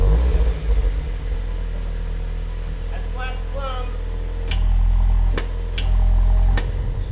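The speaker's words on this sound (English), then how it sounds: "Okay, so we got our resonated pipe on and we're driving, obviously." Low, steady exhaust drone from a VW Golf R MK8 fitted with a resonated pipe while driving, heard from inside with a muffled rumble that swells briefly, while people talk over it.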